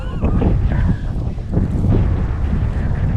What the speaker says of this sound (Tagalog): Hangin na naman yung maririnig nila dito.